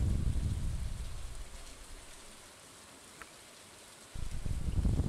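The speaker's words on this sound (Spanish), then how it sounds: "Y está ahí sonando la lluvia." Steady rain falling in the farming video game Stardew Valley, a soft continuous hiss with heavier low rumble at the start and end, quieter in the middle, no voices.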